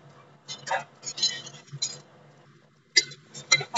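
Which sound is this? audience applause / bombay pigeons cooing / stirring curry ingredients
stirring curry ingredients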